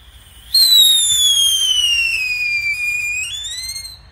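Yellow Luftfalle firework by Funke: a loud, piercing descending whistle that holds for several seconds, then rises slightly near the end, close and outdoors.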